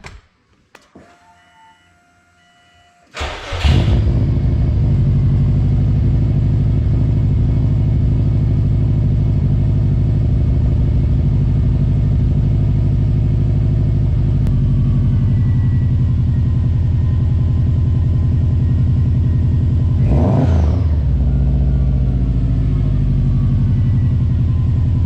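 A long-neglected Subaru STI cranks briefly and fires up, then settles into a loud, steady rumbling idle with a short rev blip near the end.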